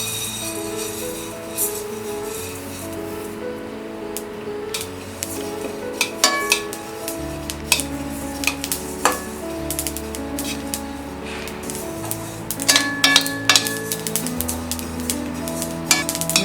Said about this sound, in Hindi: अब हम फ्राई करेंगे ये तिल।